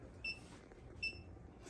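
Two short, faint electronic beeps from a Klein wire tracer, about a second apart over a low background hum.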